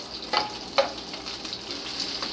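Beef steak and onion sauté in a pan with a steady close sizzle and frying hiss, broken by a couple of brief stirring scrapes and no talking.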